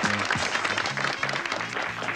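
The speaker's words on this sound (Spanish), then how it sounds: "Un aplauso para el escribano." Studio audience applauding a notary on a Spanish-language television culture show, steady dense clapping throughout with some crowd murmur, while tonal music or a voice-like hum runs underneath.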